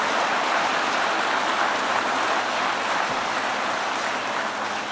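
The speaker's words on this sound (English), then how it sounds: "Let's get a round of applause for the great Secretary of Labor." A factory-floor audience at a stamping plant in Howell, Michigan bursts into steady, dense applause, a loud continuous wash of many hands with no gaps for the full stretch.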